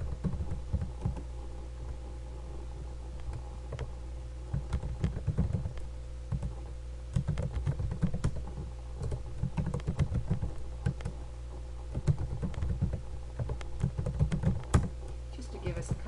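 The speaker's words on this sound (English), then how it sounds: "then I'm going to come back to A1 and type my first name" Keys clatter in irregular bursts on a computer keyboard as a first name is entered into a spreadsheet cell in Excel 2007, close and fairly quiet against a steady electrical hum.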